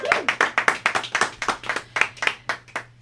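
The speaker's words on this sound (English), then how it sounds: "Let's get a round of applause for Travis." A small group clapping in a radio studio, with distinct, loosely rhythmic hand claps close to the microphone over a faint steady hum, rather than a full crowd's roar.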